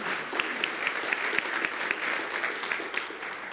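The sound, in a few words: congregation applause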